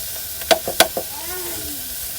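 Insects pan-roasted for breakfast in a hot pan, a steady close sizzle with a few sharp stirring scrapes and clicks, while a voice speaks briefly over it.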